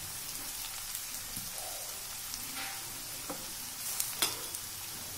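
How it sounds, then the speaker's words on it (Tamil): Vegetables sauté in a pan for varagu rice kichadi, a steady soft sizzle with occasional sharp clicks of a utensil against the pan, no voices. "இப்போ நல்லா வதங்கிடுது பாருங்க, எல்லாம் சேர்ந்து நல்லா வதங்கிடுது."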